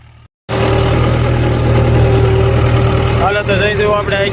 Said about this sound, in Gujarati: ટ્રેક્ટર આપણી પાસે 575 મહિન્દ્રા.